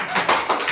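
A studio audience at a Hindi podcast claps in a brief burst of a few sharp hand claps, close and fairly loud.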